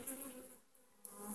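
Honeybees buzzing steadily inside a hive around the queen bee, a close, continuous hum with no talk.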